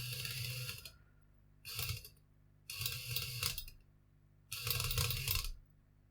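A faulty tattoo machine motor runs in four short bursts of a buzzing, rattling whir, each cutting off abruptly into near silence, close and uneven in length.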